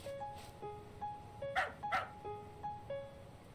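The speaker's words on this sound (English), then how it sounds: "Hello, are you a puppy?" A puppy in the video game Calico gives a series of short, high yips and bow-wows, about eight in a loose rhythm and fairly faint, over a quiet ambient background.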